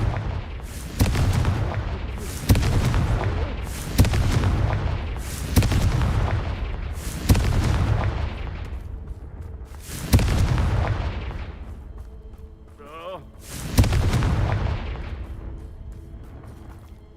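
Seven Confringo blasting-spell explosions go off in a Harry Potter video game. Each is a sharp, heavy boom that decays into a rumbling tail, fired at uneven intervals of a few seconds. No one speaks.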